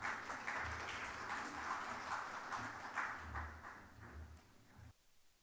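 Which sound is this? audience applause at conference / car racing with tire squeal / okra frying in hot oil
audience applause at conference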